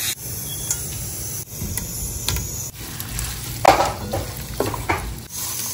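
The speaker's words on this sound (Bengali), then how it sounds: "পনিরগুলো এপিট ওপিট বেশ সুন্দরভাবে ভেজে নিলাম।" Costco paneer pieces frying on both sides in a pan, a moderate sizzle with intermittent clinks and scrapes of a utensil against the pan, no talking.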